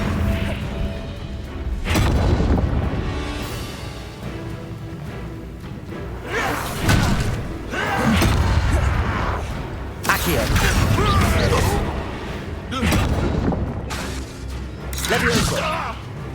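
Confringo blasting spells cast in Hogwarts Legacy, several loud bursts and crashes spaced a few seconds apart amid spell combat, with a voice talking over them.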